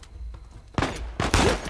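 Gunfire in the action video game Uncharted 4: a couple of sharp, loud shots crack out close together after a quiet lead-in, each followed by a brief ringing tail.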